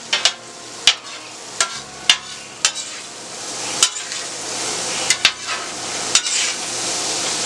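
Chicken fajita filling with adobo seasoning being stirred on a steel griddle: a constant sizzle under a series of sharp metal spatula scrapes and clacks, about a dozen irregular strikes close by, with no talking.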